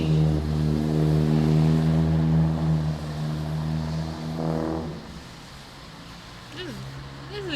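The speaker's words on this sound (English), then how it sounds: "The loud ass cars. They're really fucking loud." Loud cars passing by outside on a rainy night, a heavy droning engine roar that swells and then slowly fades, with a voice speaking faintly underneath.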